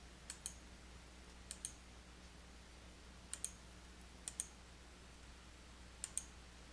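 A computer mouse clicks faintly during work in an Excel dialog box, in five quick double-click pairs spaced a second or two apart over a quiet background hum.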